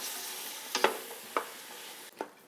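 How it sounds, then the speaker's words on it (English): Chopped vegetables for a cheese tortellini pasta salad sauté in a pan, a soft, even sizzle with a few brief utensil clicks and scrapes. "this is gonna saute for a good, I would say 8 to 10 minutes"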